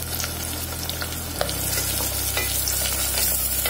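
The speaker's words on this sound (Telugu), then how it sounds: "ఉల్లిపాయలు కట్ చేసిన ఉల్లిపాయలు అండి ఒక 2 పెద్ద సైజు ఉల్లిపాయలు ఈ కట్ చేసిన ఈ కూడా అందులో వేసి వేగనివ్వాలి" Two large chopped onions frying in a pan for mutton haleem, a constant close sizzle with light stirring taps over a low steady hum, no one speaking.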